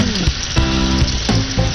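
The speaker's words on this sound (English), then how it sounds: "So listen to that sizzle." Surf and turf alla Zingarella sizzles loudly in a hot kitchen pan, a steady close-up fry with bursts of crackle throughout.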